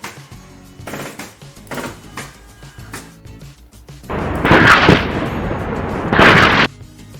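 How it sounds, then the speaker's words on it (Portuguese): A gunshot sound effect from a free sound effects site plays as a few loud, booming blasts with long noisy tails, louder bursts near the end, and no voices. "efeito de tiro"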